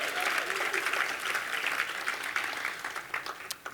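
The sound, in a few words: audience applause for Councilwoman Andrea Jenkins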